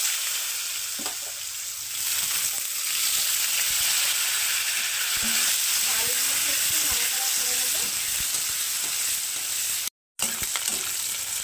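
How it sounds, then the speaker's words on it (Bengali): Pre-cut potatoes fry in hot oil for a sweet-shop-style potato curry, giving a steady, close sizzle with stirring scrapes throughout and a brief cut near the end. "এবার আমি এর মধ্যে দিয়ে দিচ্ছি আগে থেকে কেটে রাখা আলু"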